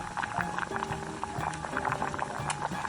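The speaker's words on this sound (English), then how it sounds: "We bring it to a gentle simmer, skimming occasionally, 90 minutes." Beef bone broth simmers gently in a pot, a steady bubbling and popping texture with a faint low hum underneath, continuous throughout.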